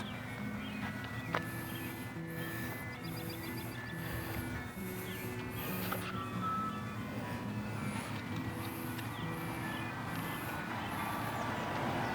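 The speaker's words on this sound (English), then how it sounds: "Got a bunch of kids up ahead going to the ice cream truck." An ice cream truck's chiming jingle plays a repeating bright melody at a moderate distance. It runs over steady outdoor street rumble while an evening dog walk goes on nearby.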